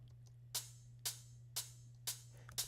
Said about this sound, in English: The off shaker and the hat sounds like this together.